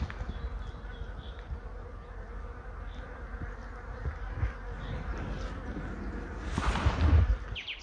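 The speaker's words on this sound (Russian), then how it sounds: "Вон уже возле пустых домиков летают пчелы-разведчицы, ищут себе место, подходящее для переселения." Continuous buzzing of honeybee scouts flying around empty hives outdoors, several insects droning at varying distances, with one passing close and louder near the end.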